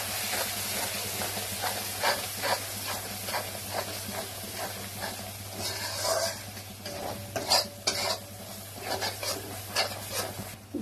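Spice paste of coriander powder, turmeric and chili being stirred and fried with a splash of water in a pan for tilapia curry, steady sizzle and hiss with repeated scraping strokes of a spoon close by, no talk.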